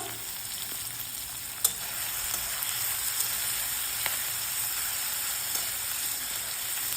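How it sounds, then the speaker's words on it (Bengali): Onions frying in a pan for a chicken curry, a steady close sizzle and hiss throughout with a few soft clicks, no talking. "এখানে আমার হালকা পেঁয়াজগুলো ভাজা ভাজা হয়ে গেছে"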